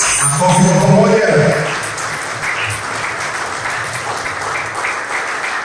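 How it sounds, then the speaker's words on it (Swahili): An audience at a government launch event applauds loudly and together, strongest in the first two seconds, then keeps clapping at a lower level while voices murmur beneath it. "Kwa pamoja, makofi wote zamani. Makofi kwa pamoja."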